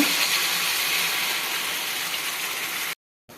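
Ground masala paste with coconut sizzles in a pan for egg podimas, a steady, close hiss that cuts off abruptly near the end.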